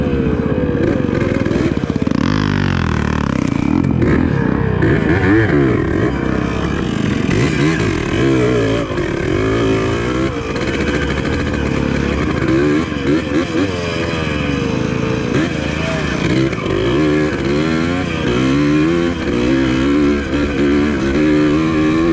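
A Yamaha DT180 trail motorcycle descends a hill, its engine running steadily close by with fluctuating revs and some clatter, while people talk over it.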